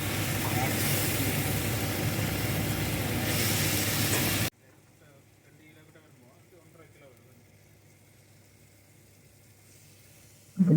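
Onions with ginger garlic paste sizzle loudly in a pan for a Sri Lankan mutton curry, a dense steady hiss for about four seconds that cuts off abruptly, leaving quiet room sound with a voice speaking, then a short loud burst at the end.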